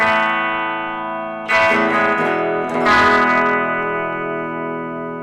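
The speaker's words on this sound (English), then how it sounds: "So I'll just give you some clean sounds first. So that's on the bridge pickup." Electric guitar played with a clean tone on the bridge pickup on a newly finished handmade build: sustained ringing chords with two fresh strums that bloom and slowly fade, close and alone.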